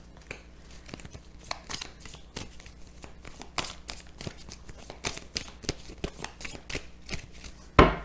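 A deck of tarot cards is riffled and shuffled repeatedly, crisp papery flutters and snaps in a steady close rhythm, ending with one sharp tap as the deck is cut.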